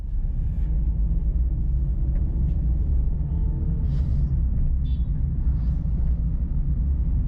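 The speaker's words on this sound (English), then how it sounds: "We've now reached the end of Kadmakudi Lake Viewpoint Road and are turning our vehicle to find a good parking spot." A car turns and drives along Kadamakkudy Lake Viewpoint Road in the backwaters near Kochi. A close, steady low engine and road rumble continues throughout without voices.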